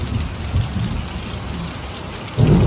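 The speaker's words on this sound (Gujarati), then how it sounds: "વરસાદ આવે જોરદાર" Heavy rain pours down steadily, a loud, dense wash of drops drumming on surfaces close by, with a deeper rumble swelling near the end.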